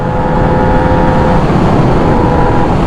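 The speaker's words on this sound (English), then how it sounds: "That is a good sounding bike for sure." Exhaust of a Yamaha YZF R6 sport motorcycle, a loud, steady engine drone holding even revs throughout, close and alone with no voices.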